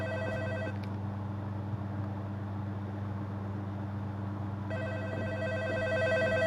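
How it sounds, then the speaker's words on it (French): An in-game telephone in a Roblox horror game (Night Shift at CD Jeux) rings in two bursts of bright trilling bells, one at the start and one near the end, over a steady low hum. "Répondre au téléphone. Il y a un téléphone qui sort."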